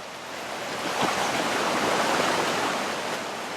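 Rushing water flows steadily and loudly, a broad continuous churn of flooded Sutter Creek with no voices, swelling slightly in the middle.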